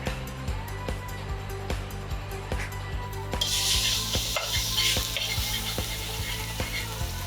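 Garlic sizzling in hot oil over low heat for crispy kare-kare, a steady close hiss that swells louder midway, with light clinks from a utensil and no talking.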